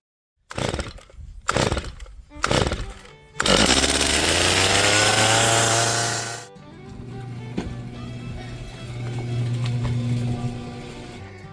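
A Stihl MS250 chainsaw is pull-started with several sharp tugs, then roars at high revs for a few seconds before dropping to a rough, loud idle that rises again slightly.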